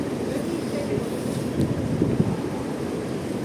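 Cold winter wind steadily buffets the microphone at a minibus stop, a continuous low rushing roar with occasional gusty thumps and faint voices underneath.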